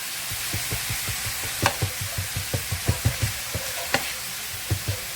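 A cheesesteak filling sizzles in a pan under a constant hiss, with regular rhythmic scraping knocks from stirring and a couple of sharper clacks.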